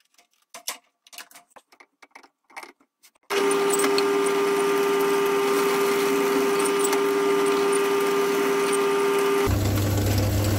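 Power drill boring into end grain wood with a drill bit, a steady loud whine running several seconds after a stretch of quiet clicks and handling knocks, then changing pitch near the end.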